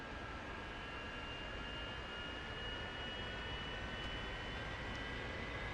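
An F-86F Sabre jet engine idles with a steady, even whine and broad rumbling roar that holds constant throughout, heard fairly close with no voices.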